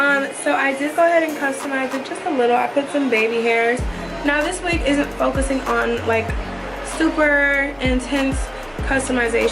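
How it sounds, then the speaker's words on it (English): An electric fan runs in a hot room, giving a steady, airy whoosh that stays beneath continuous close talking. "so my fan is on. So if that's the extra sound you hear,"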